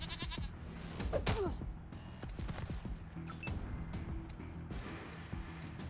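A cloned goat bleats in a post-apocalyptic wasteland video game, a short bleat early on amid busy game effects and gunfire-like clatter.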